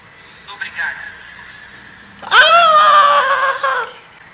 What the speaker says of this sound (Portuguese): Olha o gritinho, galera.